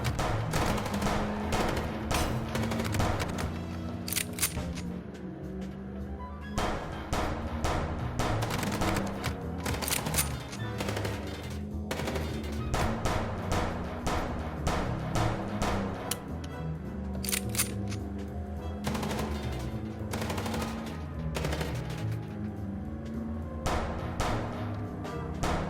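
Rapid gunfire from a shootout in the video game Chicken Police, dense bursts of shots repeating steadily throughout with loud crackling impacts and a low music bed underneath.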